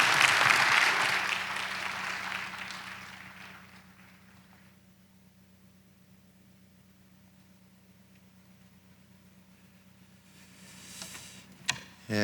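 A church congregation applauds in welcome of a visiting pastor at a Saturday early-morning prayer service, clapping loudly at first, then fading out over a few seconds into near silence, with faint clicks and rustles near the end.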